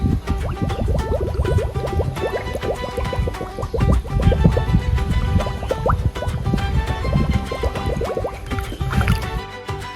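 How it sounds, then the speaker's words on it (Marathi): Water from a natural spring gurgles and splashes continuously as it is collected, a close, lively flow with small drips and bubbling that lasts the whole stretch. "इथून आपण आता पाणी घेणार थोडं पहिला."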